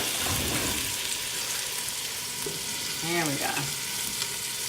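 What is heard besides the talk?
meatballs browning and sizzling in a pan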